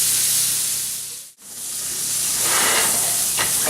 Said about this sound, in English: I seared my steak on all sides